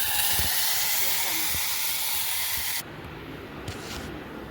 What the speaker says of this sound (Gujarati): ઘીનો વઘાર કરીને